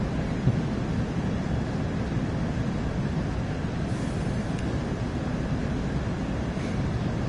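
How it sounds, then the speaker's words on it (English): Diesel locomotive engine in the Train Sim World 3 video game on Cajon Pass, a steady loud low rumble with broadband roar running unbroken throughout, no voices. "I imagine the engine is quite loud for you"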